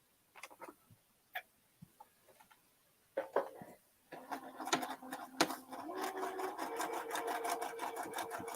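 Scattered clicks and handling taps come first. A sewing machine then starts up, stitching seams in a steady, moderately quiet whir that continues to the end.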